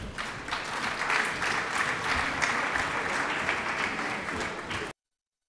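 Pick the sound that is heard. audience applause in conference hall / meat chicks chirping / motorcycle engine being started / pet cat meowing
audience applause in conference hall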